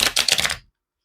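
Tarot cards are pulled and shuffled from a deck, giving a quick close burst of crisp card flicks and slides that stops abruptly after about half a second.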